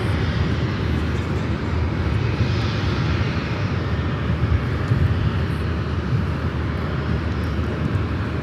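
A Boeing 737-800 departs from LAX on a flight to Chicago, its engines a loud, steady broadband roar that holds without a break from start to finish.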